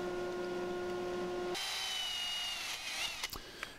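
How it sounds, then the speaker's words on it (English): A miter saw cutting an angle in wood for a kids' bookshelf starts with a steady motor whine. It then gives way to a rough, hissing cut through the board, ending with a few sharp clicks. "I will use my miter saw to cut this angle"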